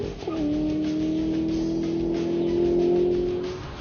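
Corvette ZR1 sports car at full acceleration on a test run, a loud sustained engine note rising steadily in pitch for several seconds before easing off near the end.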